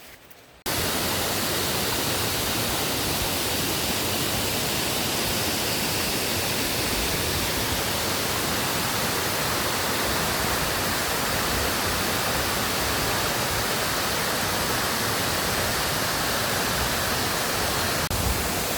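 A waterfall in Catigbian, Bohol roars as a constant, dense rush of falling water, loud and close, with no voices over it.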